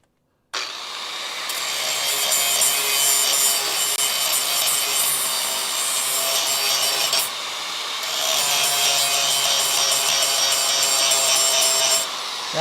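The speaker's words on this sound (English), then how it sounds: "Now the grinding wheel is making real short work of what I can get at" A grinding wheel grinding expanded rust off a Dodge crew cab truck in a shop, a loud, continuous harsh abrasive whine close by, with a short dip midway before grinding resumes.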